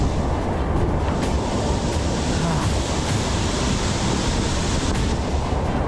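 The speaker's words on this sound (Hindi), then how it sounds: "ये बहुत ऊंचा झरना है।" Tall waterfall, a dense, loud, continuous roar of falling water with a wind-like hiss, steady throughout with no clear voices.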